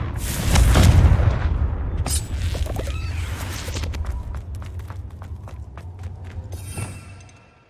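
A Confringo spell blast in Hogwarts Legacy sets off a heavy booming explosion that rumbles and decays, followed by scattered clatters, footsteps and smaller thumps, loud and close.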